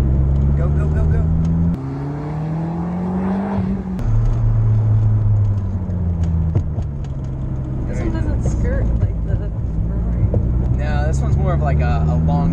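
A McLaren's turbocharged engine roars loudly up through the revs in several rising surges with abrupt shifts between them, a voice faintly present beneath the sustained drone.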